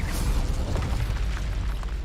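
The Incendio fire spell in Hogwarts Legacy bursts out as a dense, roaring rumble of flame and impact, loud and continuous for about two seconds.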